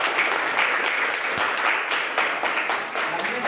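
A classroom group applauds for several seconds in a steady wash of hand claps, moderately loud and even, with no talk over it.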